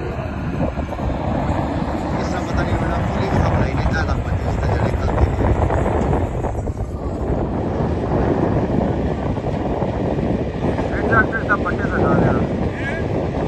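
A tractor engine drones steadily near a river dam where sand is being dug, a continuous rough rumble close by that lasts throughout, with people talking over it.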